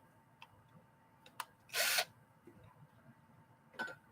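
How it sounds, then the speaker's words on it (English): A power drill whirs in one short, loud burst of about half a second, with a few faint clicks and taps before and after. "I got a pink drill."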